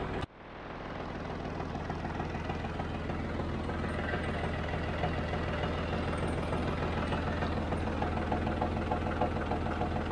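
A John Deere tractor engine runs steadily at idle on a hay farm, a loud, continuous low mechanical rumble with a faint knock, starting abruptly and holding level throughout with no voices.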